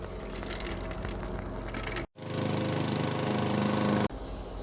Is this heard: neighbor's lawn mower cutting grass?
yes